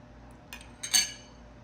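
A spoon clinks twice against a bowl while lemon juice is stirred into moringa leaf and drumstick soup, two faint, short metallic taps in a quiet kitchen.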